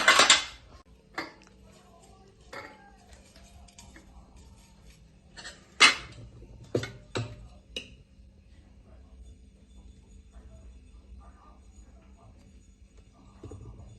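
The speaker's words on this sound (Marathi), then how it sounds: "आता ह्या भांड्यांमध्ये आता कुकर लावून घेते भांडे भरून घेते" Steel vessels of an idli cooker clink and clatter as they are handled and filled with batter, a few loud metallic knocks spaced out, then quieter clinks over a low background hum, with a voice talking.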